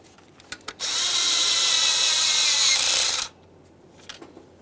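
Power tool running in one sustained burst of about two and a half seconds while snugging up the hardware on the intake VVT solenoid of a 2015-2020 Ford F-150 3.5L V6, with brief clicks before and after.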